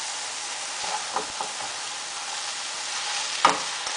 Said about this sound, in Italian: continuiamo a mescolare finché non si sarà sciolto